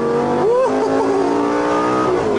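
A Lamborghini Gallardo supercar engine runs loud and steady, its tone rising and falling in short revving sweeps while the car is driven on a track during a drifting lesson.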